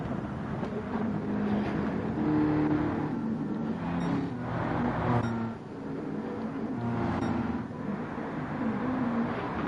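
A touring car in Gran Turismo 7 runs at full throttle toward the start-finish line at Sardegna, its engine roaring steadily with repeated swells of revving and a rushing, wind-like edge.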